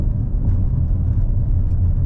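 Audi RS 6 Avant crashing over road bumps, heard as a steady low rumble with road and engine noise from inside the cabin, loud and continuous with slight thumps and no speech.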